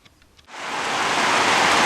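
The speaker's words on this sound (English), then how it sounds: "It's pouring with rain." Heavy rain suddenly starts pouring after a near-quiet half second, swelling into a loud, steady hiss of downpour that continues to the end, with no voices.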